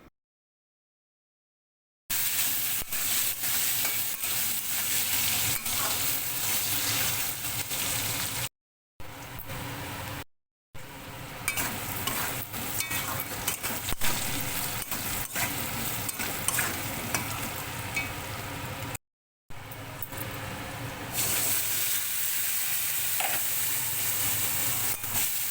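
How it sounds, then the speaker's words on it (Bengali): Potatoes fry in a pan with salt, turmeric and spice paste for an egg curry, a steady close sizzle with stirring scrapes, broken by a few short silent cuts. "আলুটা নুন হলুদ দিয়ে একটু ভাজা করে নেব"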